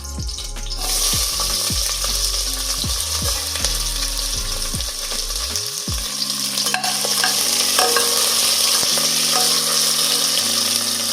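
Chopped onions dropped into a hot pan for biryani, frying with a loud, steady sizzle and occasional stirring clatter throughout, with no talking.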